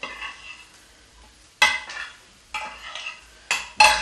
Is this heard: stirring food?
yes